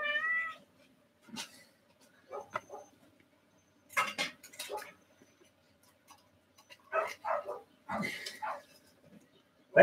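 A pet cat meows in several short, separate calls with quiet gaps between them, fairly close by and otherwise alone.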